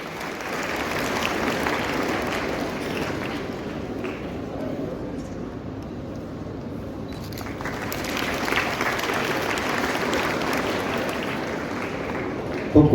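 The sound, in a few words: audience applause welcoming the guest at school annual day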